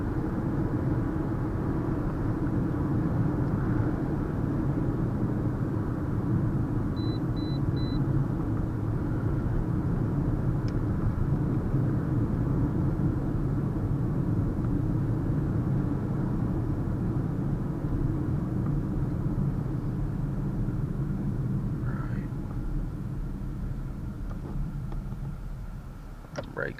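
A 2017 Toyota RAV4 LE with all-wheel drive cruises along, its steady engine and road rumble filling the cabin while a person talks over it.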